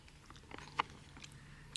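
A chunk of rehydrated biscuit is bitten and chewed on a hiking trail in Arizona, giving soft, close mouth sounds with one sharper crunch near the middle and a faint click at the end.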